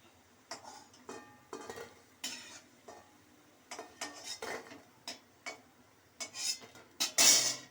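Red lentil fritters fry in hot oil in a pan, with a run of distinct clinks and scrapes of a utensil turning them over a soft sizzle, ending in a louder burst of bubbling.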